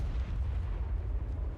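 A huge explosion in the survival game Ark, heard as a deep, loud, sustained low rumble dominated by bass, rolling steadily without a sharp attack for the whole moment.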